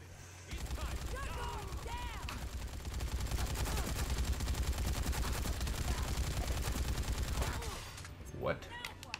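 A sustained burst of rapid LMG machine-gun fire in Dead Rising 3 rattles on for several seconds, loud and continuous, then stops abruptly near the end.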